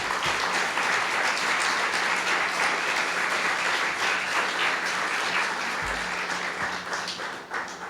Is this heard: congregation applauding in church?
yes